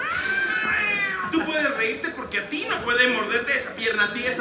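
A cat meows during a live theatre stage show while actors speak loudly over it, the cat sound rising in drawn-out, wavering cries that weave through the dialogue.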